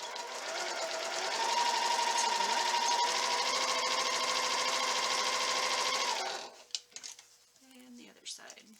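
A domestic sewing machine stitches quilt pieces for half-square triangles, a fast steady whirring run for about six seconds that then stops, followed by small handling clicks; a voice talks alongside.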